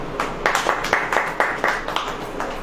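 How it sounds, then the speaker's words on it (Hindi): A church congregation claps hands together in a steady, rhythmic beat, about ten sharp claps spaced evenly over a few seconds, close and fairly loud with no talking over it. "ताली बजाइए"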